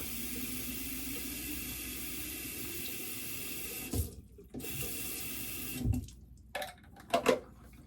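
Water runs from a tap into a container as a steady, close rushing hiss, then cuts off and gives way to a few scattered knocks and splashes.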